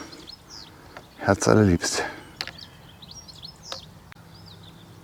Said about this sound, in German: und die Vögel zwitschern